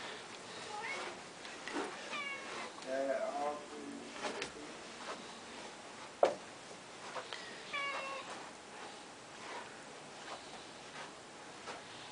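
A house cat meows several times, a string of drawn-out, fairly close calls with pauses between them, plus some rustling and a sharp knock midway, with a voice heard speaking in the room.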